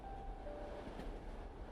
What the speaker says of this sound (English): You watch as the train slowly meanders around a family farm.